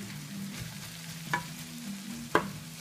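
Rice frying in a pan and broken up with a spatula: a steady sizzle with scattered scraping and stirring, plus two sharper clacks of the spatula against the pan, close and fairly quiet.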